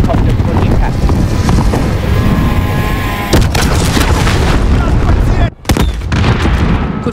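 A helicopter crashes and explodes during an airbase assault in Call of Duty: Modern Warfare, giving a loud sustained roaring boom with rumble and engine noise. There is a sharp burst near the middle, a brief dropout, then the rumble continues while voices speak over the din.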